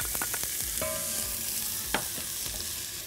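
Onion frying in a pot as part of okra with meat and chickpea rice, a continuous close sizzle with scattered pops and stirring scrapes.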